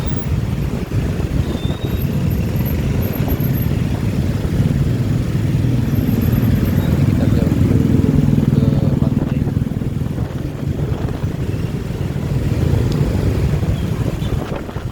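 Rush-hour traffic of cars and motorcycles near the Tanjung Bunga bridge in Makassar: a loud, continuous engine drone and rolling road roar that swells and eases as vehicles pass close by.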